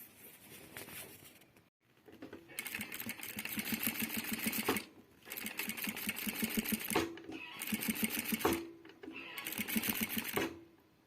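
A sewing machine stitches a single duvet cover in several long runs separated by short pauses, its needle chatter close and rhythmic, with brief clicks as each run stops.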